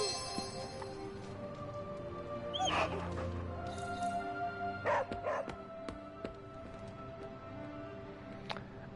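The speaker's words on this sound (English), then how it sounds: "We pet the dog every day." A dog in the video game Midnight Suns yips, barks and whimpers while being petted, short bursts over a soft musical background, with a voice occasionally talking.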